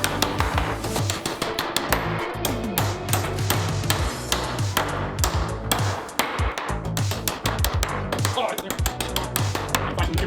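Rapid, steady hammer blows from Estwing and Stiletto hammers strike nails over and over, loud and close, with a voice talking underneath the relentless pounding.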